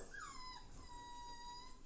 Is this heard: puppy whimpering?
yes